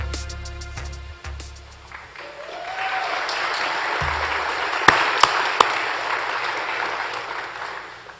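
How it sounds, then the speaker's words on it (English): Audience applause at a GROW 2018 event swells after a brief spoken line and holds steady and loud for several seconds, with a few sharp claps standing out near the end. "but you already applauded"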